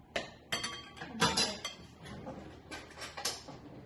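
A spoon clinks and scrapes against a dish while a green marinade for vegan tikka is tasted, with several sharp, close taps and rattles spread over a few seconds in a quiet room.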